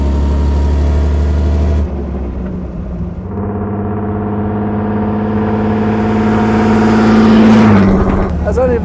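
A 1928 Mercedes SSK with a supercharged 7.1-litre engine roars loudly up close, its deep drone climbing steadily in pitch as it accelerates, then peaking and dropping off near the end.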